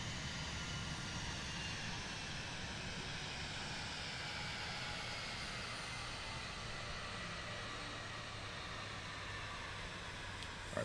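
A steady airplane engine drones on in a flight video game, a continuous, even roar with a faint hiss, unbroken throughout and fairly quiet.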